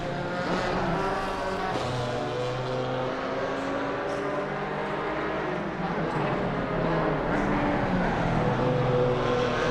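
GT4 race cars, Porsche and BMW, roaring around the Bathurst circuit, a continuous loud engine drone with overlapping cars and shifting pitch as they pass.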